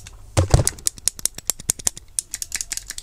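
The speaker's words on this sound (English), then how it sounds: "Both buttons seem to be clicking." The buttons of an LED clock kit give a string of sharp, close clicks, some fast and others spaced apart, with no voices.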